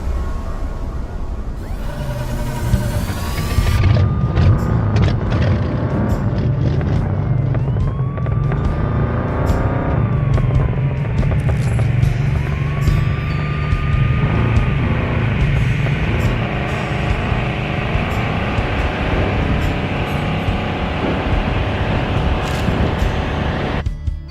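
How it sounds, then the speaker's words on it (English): A car engine in the video game Heading Out roars steadily and loudly, with revving pitch sweeps rising and falling as it accelerates. "You can hear a steady, passive-aggressive roar of the other car's engine."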